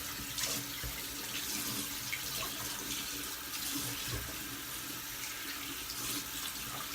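Tap water runs steadily from a faucet into a sink to rinse out a doll's hair, a continuous close hiss and splash with no voices.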